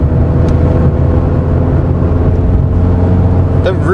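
A 1992 Rover 416SLi pulls hard in fourth gear, a loud, steady, droning engine and road roar from inside the cabin that holds for the whole stretch.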